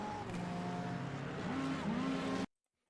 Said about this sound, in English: You hear him jam that throttle pedal back.